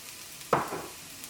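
Mushrooms dropping into hot butter in a thick pan, one sudden sizzling burst that quickly settles into a softer fizz, close by with no talk.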